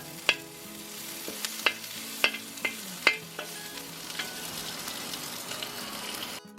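Ginger and garlic stir-fry in a hot pan for a Cantonese pork belly dish, a steady sizzle broken by six or seven sharp scraping clacks of a utensil against the pan at an uneven rhythm, close and clear.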